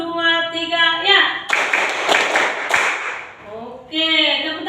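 A group of participants in an Indonesian class session claps together on a spoken count, a dense burst of clapping lasting about two seconds and set between stretches of talk.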